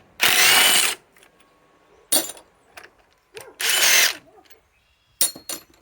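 A Ryobi PSBIW25 compact impact wrench removes fasteners in short loud bursts, about four rattling runs of under a second each separated by pauses with small clanks.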